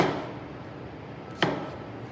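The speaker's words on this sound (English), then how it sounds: "We're coming all the way straight down with our knife" A single sharp knife chop lands on the board as the blade comes straight down through an onion, one clear knock standing out against a steady, noisy room background.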